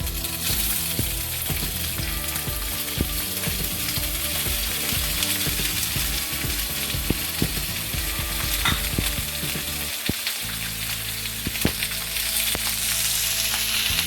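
Onions sautéing in hot oil with bay leaf and cumin seeds for karahi chicken give a steady, close sizzle, broken by frequent clinks and scrapes of stirring. No one speaks.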